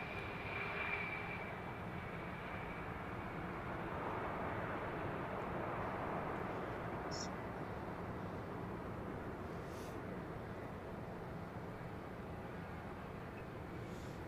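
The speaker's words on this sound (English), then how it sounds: "Qatar 777 oneworld jet on its way." A Qatar Airways Boeing 777 jet passes at an airport, a steady faint rumbling roar of engines spread broadly and held throughout, fairly distant and unaccompanied by talk.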